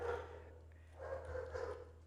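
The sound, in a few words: dog barking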